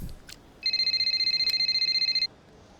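Telephone ringing in the racing game F1 Manager Braking Point 3, a steady electronic trill that sounds once for about a second and a half, with rapid pulses and a clear, close tone over quiet background.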